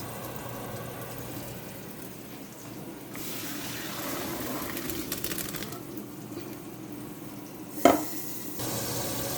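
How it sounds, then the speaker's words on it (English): Cooked rice water is poured through a kitchen strainer, giving a soft, steady rush of draining water at low volume. A brief sharp clink sounds near the end. "I'm going to strain out the water in a strainer."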